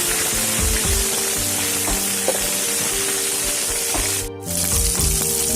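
Fish frying in oil in a village kitchen gives a loud, steady sizzle and crackle close by, with a brief dip in the middle and occasional clinks of utensils.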